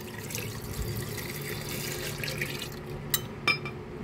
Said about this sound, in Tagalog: At saka po natin ibuhos sa ating mixed berries.